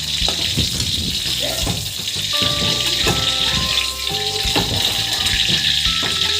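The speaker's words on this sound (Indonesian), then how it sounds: "Masukkan juga cabai merah, bawang putih, dan kemirinya. Ini kita goreng sampai layu." Red chilies, garlic and candlenuts fry in hot oil, giving a steady, loud broadband sizzle throughout, with some soft clinks and stirring beneath the hiss.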